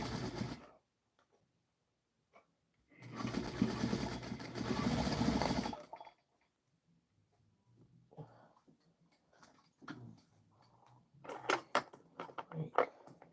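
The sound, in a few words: sewing machine sewing the front of a stuffed toy's head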